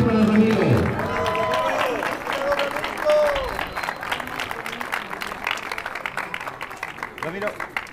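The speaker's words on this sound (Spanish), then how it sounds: "Un aplauso, por favor, para Ramiro." An audience at an awards ceremony applauds for Ramiro, a dense burst of clapping that swells and then thins out over several seconds, with a voice speaking over it at first and crowd chatter mixed in.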